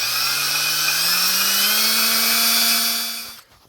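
A drill with an abrasive attachment spins steadily on the aluminum mounting surface of a Ford 5.0L Fox Body water pump, a high continuous whine that slowly rises in pitch, then stops sharply near the end.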